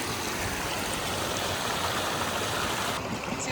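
A Montana backcountry mountain creek flows over rocks and into pools, a constant close rushing wash of water that holds steady throughout without any voices.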